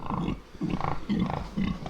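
Pigs grunting in short, repeated bursts, several low snorty grunts in quick succession, close by with no talking.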